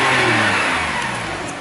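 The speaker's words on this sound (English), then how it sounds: "I will give it a bit of a blip." A Porsche 911 3.8 Targa 4S wide-body with PDK gives a sharp, loud throttle blip just back from the workshop, the rev peaking at once and then tapering off over a second and a half.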